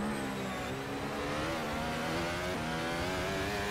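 A race car engine in a sim racing game holds a steady high whine, easing off under hard braking and then climbing again as it accelerates, loud and close throughout.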